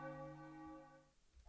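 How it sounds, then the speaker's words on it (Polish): Bells toll in the video game Past EXE: a single resonant ring with a rich stack of tones that sustains and then fades out within about a second, heard alone with no talk. "Jak ja się boję tych dzwonów"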